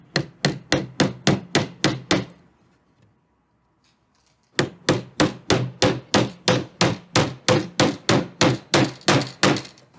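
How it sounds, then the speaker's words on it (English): Steady hammer blows drive a nail into a wooden crate: about eight sharp, evenly spaced strikes, a two-second pause, then a longer run of some fifteen rhythmic knocks, loud and close with no talking. "We're just going to use a hammer and a nail for this."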